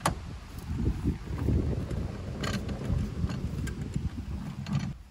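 Strong wind buffeting the microphone at a mountain plateau campsite beside a Crawler KMP 190 rooftop tent on a Ford Ranger, a continuous low rumbling roar with gusty swells and scattered knocks and rattles throughout.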